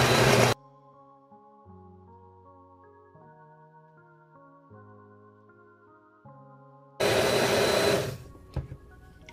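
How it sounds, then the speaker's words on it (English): A kitchen blender whirs as it purees plantain with room-temperature water: a loud burst at the very start, then soft background music, then another roaring run of about a second and a half before it stops. "And now guys, we're gonna blend."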